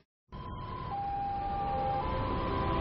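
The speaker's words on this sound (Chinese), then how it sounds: "呼啸往来的救护车让医护人员忘记了时间" An ambulance siren starts abruptly and holds a steady, loud wail, with its pitch shifting slightly in stages. It sounds amid an emergency rescue with many casualties and plays on its own, with no voices.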